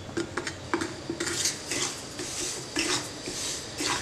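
Amaranth (rajgira) grains roasting in a pan, heard as quick metallic scrapes and clinks of a spoon against the pan in an irregular rhythm, close and clear, without talk.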